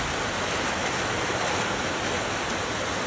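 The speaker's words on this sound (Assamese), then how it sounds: "আজি বতৰ ঠাণ্ডা, পূৰা বৰষুণ দি আছে।" Heavy rain pours steadily on a cold morning, a dense, even hiss with no pauses and no voices.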